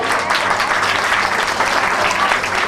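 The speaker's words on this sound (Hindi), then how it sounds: "एक बार जोरदार तालियां बजाएंगे।" A crowd at a 50th wedding anniversary celebration gives dense, continuous applause, loud and even from start to finish.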